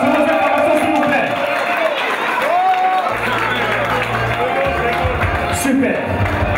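Crowd cheering and applauding at a trophy presentation for a football integration tournament in Berlin, a continuous loud wash of clapping and voices with excited shouts rising throughout.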